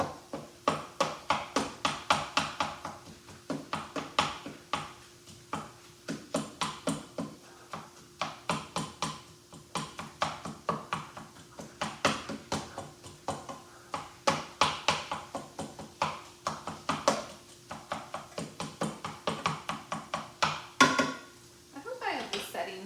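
Steady, rapid knife chopping on a cutting board, quick rhythmic taps that continue throughout with brief pauses, close and moderately loud.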